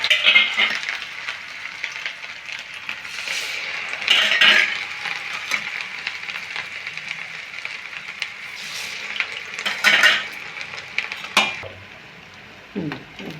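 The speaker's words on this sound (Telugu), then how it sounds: "నూనె ఆయిల్ వేడెక్కింది. జంతికలు వేస్తున్నాను." Jantikalu, crunchy rice-flour murukku, fry in hot oil with a constant close bubbling sizzle, broken by bursts of louder crackling and the clink of a metal utensil against the pan.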